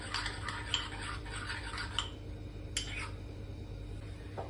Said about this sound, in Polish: Dokładnie mieszamy.